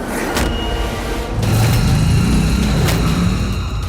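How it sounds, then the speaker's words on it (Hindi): A car on a road, a loud steady motor rumble that swells as it comes closer, with brief sharp mechanical clicks over the drone and no talk. "आपके सामने से गाड़ी आ रही है,"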